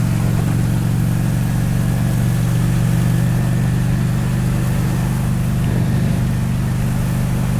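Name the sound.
Honda 600 Shadow VT motorcycle engine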